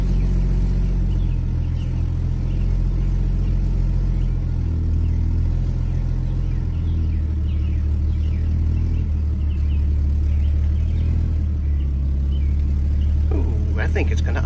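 The engine of a 1998 Jeep Wrangler with old, stale gas runs with a continuous low rumble that steadies toward idle, close, with a person speaking faintly over it.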